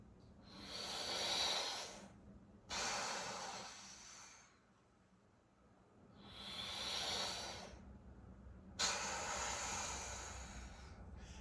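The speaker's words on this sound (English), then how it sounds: "really focus on starting down here and just filling your lungs all the way up and then releasing it" Deep, rhythmic Wim Hof-style breathing: four long, loud breath cycles, each a broad rushing inhale or exhale lasting about two seconds, separated by short quiet pauses, close to the microphone with no talking.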